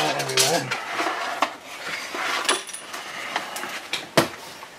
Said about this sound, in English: Tinkle, the sound of glass.